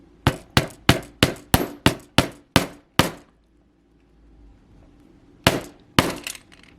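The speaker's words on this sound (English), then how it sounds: "So let's hammer one side a little bit." A hammer strikes metal wire in a quick, steady run of about ten sharp taps, then pauses before two more blows, close and loud, while making earrings.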